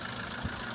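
A flood-damaged 2019 Toyota Innova engine runs after starting, giving a steady low idling rumble with one faint knock partway through.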